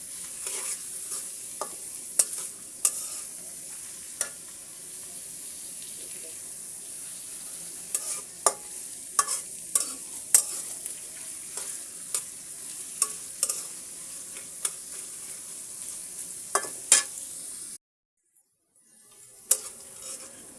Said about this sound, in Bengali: এখানে আমি গাজর এবং পেঁয়াজটাকে সুন্দর করে ভেজে নিচ্ছি তেলের সাথে।